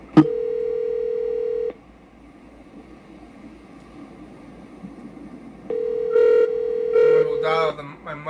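A telephone line rings back on a call, two long steady buzzing tones separated by a quiet gap, with a person speaking over the second ring.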